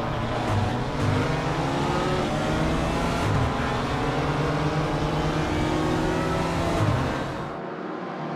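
A BMW M4 GT4 racing car engine in the game RaceRoom screams continuously as it accelerates through gear shifts, loud and steady, then cuts off abruptly near the end.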